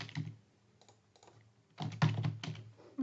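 Bursts of computer keyboard typing, clustered key clicks close by with short pauses between flurries.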